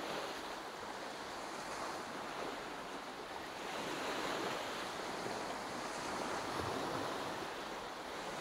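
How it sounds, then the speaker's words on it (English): Baltic Sea waves wash steadily at Hasle Harbour on Bornholm, Denmark, a continuous broadband surf roar with some wind buffeting the microphone and no voices. "So there we are, the Baltic Sea,"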